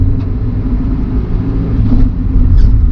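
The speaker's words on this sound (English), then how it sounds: "Alright, so driving the PULSAR." A Nissan Pulsar NX, an 80s hatchback, drives along with a loud, steady low engine and road rumble heard from inside the car, with no talking.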